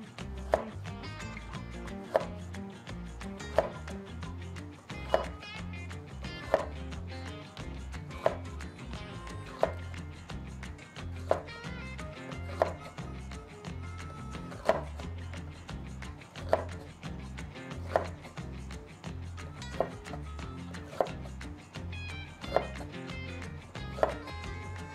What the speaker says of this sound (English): Right here I'm going to cut up some jalapeno peppers